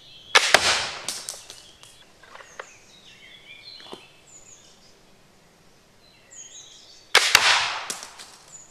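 A bolt-action ballistic knife launcher fires a knife, making a sharp, loud crack near the start, followed by scattered metallic clicks and ringing, then a second loud crack near the end.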